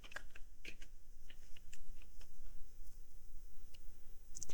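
Rapid, light taps on a computer keyboard in a quiet room, a steady run of quick clicks entering text, with no voices.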